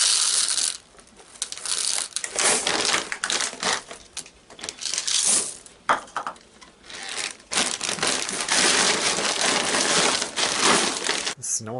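Small hard M&M candies clatter and rattle as they are poured onto almonds, cashews and jerky, a dense crinkly cascade in bursts with short pauses.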